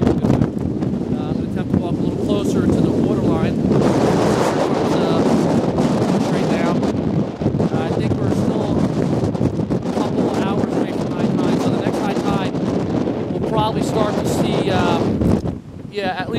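Hurricane Sandy's gusts roar across Midway Beach in South Seaside Park, New Jersey, heavy wind buffeting the microphone almost continuously, with surf churning underneath and brief lulls between surges.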